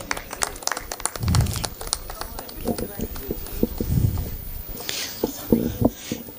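An audience claps at a Hindi comic poetry gathering, a scattered, uneven patter of hands that swells and fades in bursts, with talk running underneath.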